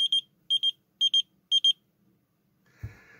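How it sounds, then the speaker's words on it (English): Motorola Bravo Classic pocket pager alert: four evenly spaced pairs of shrill, high electronic beeps, loud and close, then a brief low thump as the device is handled. "This is a pocket pager, specifically a Motorola Bravo Classic"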